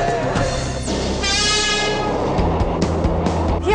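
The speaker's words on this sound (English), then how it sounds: "Here we are on the first MRT train." An early MRT train runs along the line, giving a continuous loud rumble with a rising metallic squeal and rhythmic wheel clatter from close by.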